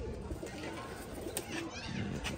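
Pigeons at a pigeon club coo softly and intermittently against a steady background hum, faint and a little distant, with no clear talk.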